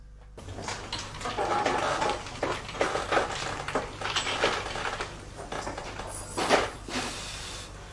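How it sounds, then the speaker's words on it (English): Iron candle rows clink and scrape as they are set out beside a cauldron of melting wax, a busy run of close metallic knocks and clatters with a louder clank near the end. "Manuel arranges rows of iron so the candles remain perfectly cylindrical"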